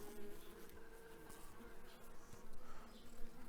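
Honeybees hum steadily around a small nucleus hive colony in September, a dense continuous buzz with individual bees droning past close by, no voices.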